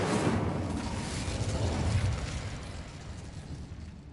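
A fire spell, Incendio, cast in the video game Hogwarts Legacy: a loud, roaring burst of flame that swells and then slowly fades away, with no voices over it.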